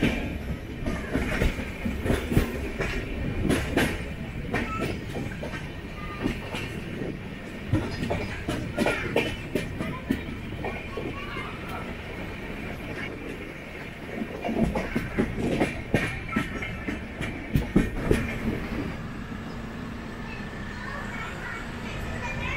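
Onam Special Train 06053 running on rails from Tambaram toward Ernakulam, with continuous rumbling, clattering wheel clicks and rattling carriages heard from on board, and voices in the background.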